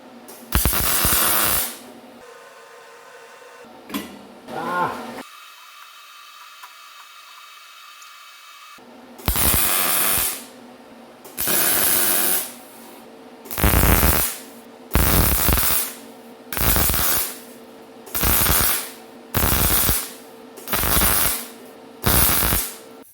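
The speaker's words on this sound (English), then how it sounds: "So I'm just going to weld that on, and once that's done, the unit is closed." A 1¼ inch stainless steel socket is welded onto sheet steel for a cyclone separator on a wood gasifier, with a series of loud hissing, crackling weld bursts, each lasting about a second and separated by short pauses.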